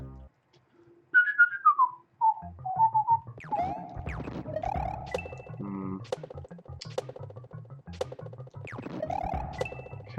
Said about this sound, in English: I've devoted way too much of my brain to trying to whistle this